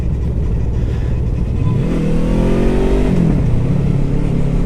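A car accelerates past a motorcycle on a mountain road near Pistyll Rhaeadr waterfall. The engine note is loud and close and climbs steadily in pitch over several seconds, with no talk.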